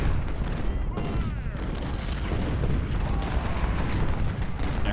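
Artillery and musket fire in Ultimate General: Civil War, the Siege of Jackson battle: a dense, continuous rumble of booms and crackling volleys over five seconds, with a speaking voice running through it.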